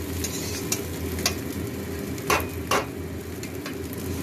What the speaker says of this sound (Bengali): ডিমটাকে ভেজে নিলাম ভালো করে। ভেজে নিলাম না, ভাজছি।